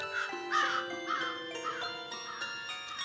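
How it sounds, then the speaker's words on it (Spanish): A crow caws repeatedly on a cold day, perched on a wall, with several harsh calls over a soft tinkling musical backing in a fairy-tale setting. "el cuervo que solía posarse en la tapia graznaba, de frío que tenía"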